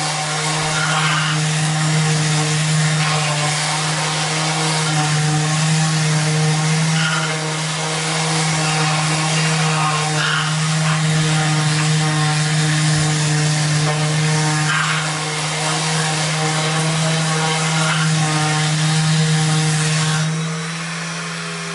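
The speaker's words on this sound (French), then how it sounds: "avec la ponceuse excentrique on va faire un test" A random orbital sander whirs steadily against wood for over twenty seconds, a loud buzzing drone that swells and dips slightly as it moves.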